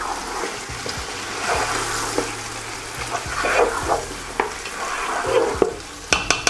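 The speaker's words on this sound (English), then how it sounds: "At this point in time, we're going to slowly add in our lamb. A really good mix to that." Lamb pieces stirred into sizzling fried onions in a pan for Afghan Kabuli pulao, with steady frying sizzle under repeated scraping stir strokes and a few sharper clinks near the end.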